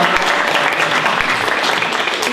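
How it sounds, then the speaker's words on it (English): An audience at a spiritual morning gathering claps for a woman, a loud, dense, continuous roar of many hands throughout. "Give her a clap."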